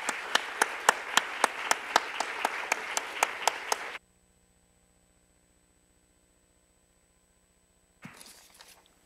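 An audience in a symposium hall gives a round of applause for the organizer, dense steady clapping for about four seconds that stops abruptly, then a short burst of clapping resumes near the end.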